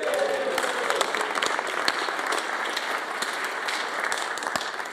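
Sustained audience applause fills a formal event at the Senate of the Netherlands in The Hague, a dense, steady patter of many hands clapping at once, close and even throughout with no talk over it.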